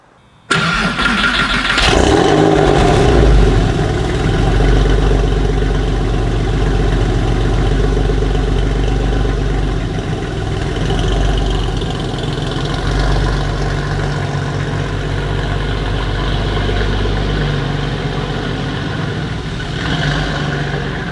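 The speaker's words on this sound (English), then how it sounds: "this thing's Dansk cat bypass exhaust sounds mega" A Porsche 911 engine with a Dansk cat bypass sports exhaust fires up with a sharp burst, then settles into a loud, throaty idle with deep exhaust rumble and slight revving, no talking.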